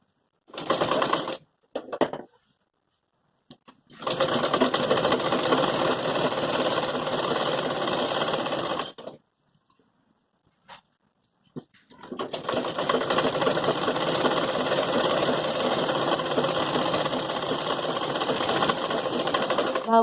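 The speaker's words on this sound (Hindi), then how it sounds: "यहाँ से सिलाई लगाना स्टार्ट करूंगी।" A sewing machine stitches the mori (ankle cuff) of a Patiala salwar, whirring loud and close in a few short bursts, then two long continuous runs with brief silent stops between them.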